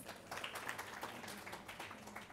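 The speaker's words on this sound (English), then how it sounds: "A round of applause for him, please." Faint applause from an audience at an evening healthcare business gathering, a dense patter of many hands clapping steadily, heard from a distance.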